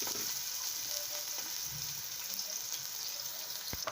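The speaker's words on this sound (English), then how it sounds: "Let me fry some pepper and all that." Pepper, spring onions and fish frying in hot oil, a steady close sizzle with faint crackles and water-like hiss running through the whole stretch, no talking.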